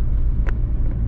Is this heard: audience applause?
no